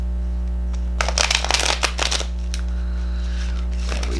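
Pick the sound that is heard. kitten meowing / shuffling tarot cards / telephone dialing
shuffling tarot cards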